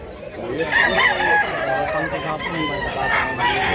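A rooster offered for sale among quality gamefowl in Mantalungon, Cebu crows in long, close harmonic calls, with other fowl clucking and faint voices in the background.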